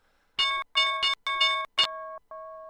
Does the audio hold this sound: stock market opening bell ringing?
yes